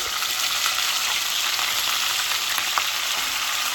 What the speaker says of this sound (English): So I'm putting in 2 pounds of ground beef, and I am gonna break this up